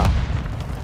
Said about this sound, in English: I love blowing stuff up.